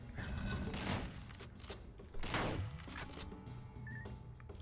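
Toxic salt shotgun blasts in the video game Dungreed come as a dense burst of rapid shots and impacts amid busy game effects, loud and close, with no talking.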